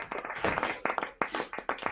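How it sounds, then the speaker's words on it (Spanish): Audience clapping at a talk, a short burst of scattered claps from a small group, fairly close, with uneven rhythm and no talking over it. "Gracias por los aplausos."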